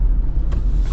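A 2025 Jeep Wrangler Rubicon 392 with its big-displacement naturally aspirated V8 rumbles steadily at idle, a deep, loud low-frequency burble with no talk over it.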